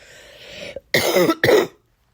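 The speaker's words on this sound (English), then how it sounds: "I'm getting over a cold, and I just still have this lingering cough" A person getting over a cold gives two harsh, close coughs in quick succession, preceded by a short throat-clearing rasp, then silence.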